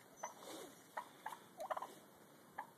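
Several turkeys gobbling in short bursts, a rapid burbling cluster in the middle and single calls around it, fairly faint and outdoors with no talking.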